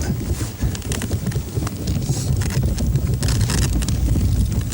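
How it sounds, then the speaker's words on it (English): Strong wind roars across the microphone on a moving river boat, a loud, steady buffeting rush with a low engine-and-water rumble beneath, no talking. "we got a good wind going there"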